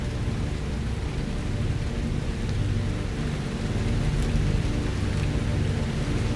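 Steady rain pours down with low thunder rumbling underneath, a dense and even wash of sound that stays at one level throughout, with no voices.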